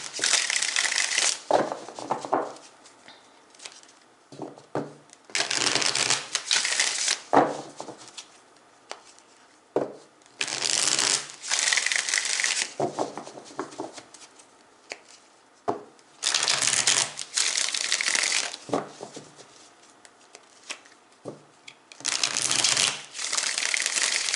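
Tarot cards shuffled and handled over and over, with crisp riffling bursts alternating with quieter shuffling pauses, close and clear with no speech.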